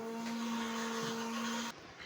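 A coffee machine in a shopping mall runs with a steady, loud motor whine and a constant electrical hum, then cuts off abruptly just before the end. There is no talking.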